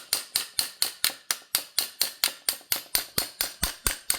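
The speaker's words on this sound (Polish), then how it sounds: "Jeżeli nie chce wyjść ta oś, możemy puchnąć delikatnie młotkiem poprzez taki delikatny wybijaczek." Steady hammer blows strike a drift punch to tap out a ski binding axle, about four sharp metallic taps per second, evenly spaced and close, each with a quick decay.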